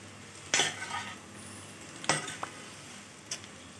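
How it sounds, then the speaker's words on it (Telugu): Cut chapati strips are tossed and stirred in an oiled pan to make chapati noodles. A low sizzle runs under three distinct scrapes of the spatula against the pan, the first two loudest, and no one speaks. "వేసేసుకొని కింద నుంచి పైకి బాగా మిక్స్ చేసేసుకుందాం."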